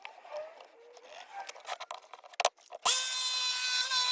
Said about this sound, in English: still using the jigsaw to cut out